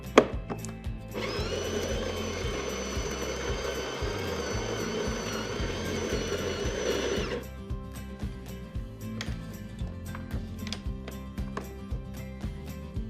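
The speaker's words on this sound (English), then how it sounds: "We only need to make a very small adjustment to the grinder, and we can only do this while the grinder is operating." An espresso machine's built-in grinder grinds coffee beans while being adjusted to a finer setting, a loud steady whirring burst of about six seconds over a busy clattering background, then cutting off.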